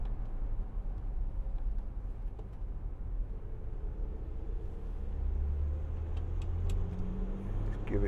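Land Rover Discovery 4 HSE with a 3.0 SDV6 diesel engine accelerating on the road, a steady low engine rumble with tyre and wind noise that swells noticeably partway through, heard from inside the cabin.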